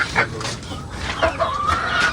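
Chickens on a Filipino home farm, set to be butchered for tinola, cluck in short repeated bursts at close range, with scattered background voices and household noise.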